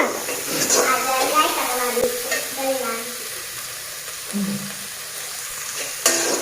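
Rice being stir-fried in a pan, a steady sizzle and hiss with scraping of a spatula, while a person talks over the cooking.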